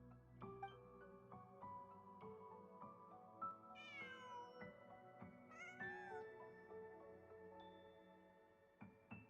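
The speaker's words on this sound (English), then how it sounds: "Just a cat." A cat in a video game meows several times, with rising and falling cries standing out clearly over a steady layered musical score.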